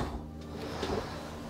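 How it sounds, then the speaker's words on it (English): A cabin door on a Dufour 530 sailboat swings shut with a single soft, muffled thud, faint against steady low background hum. "So we'll close that door."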